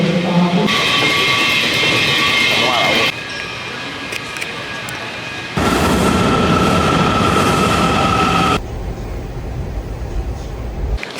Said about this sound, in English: Now to the metro we go.